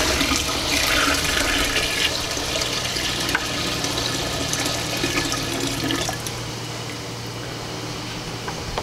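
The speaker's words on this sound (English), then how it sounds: "Go ahead and put my sparge water in here" About three gallons of hot sparge water pour into a homebrew vessel in a loud, continuous rushing gush that eases slightly near the end.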